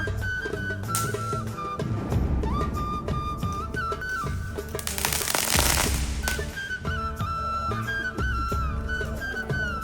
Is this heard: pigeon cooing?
no